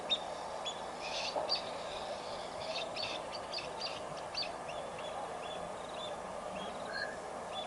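Faint, high chirps from young birds, scattered in short bursts over a steady background hum.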